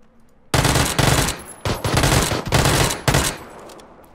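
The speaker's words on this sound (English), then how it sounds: "I whiff my first shots" Submachine gun fire in PUBG: several loud, rapid bursts of shots in quick succession, close and dominant, with brief gaps between bursts and a short quiet tail.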